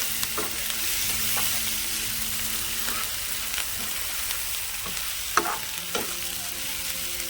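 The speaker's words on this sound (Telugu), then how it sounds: "ఉల్లిగడ్డ వేగాలండి. కొంచెం ఉల్లిగడ్డ వాసన వస్తూ ఉంటుంది." Onions and paste fry in oil in a pan for an egg tomato curry, giving a constant loud sizzle with several sharp spoon scrapes and taps, with no voices.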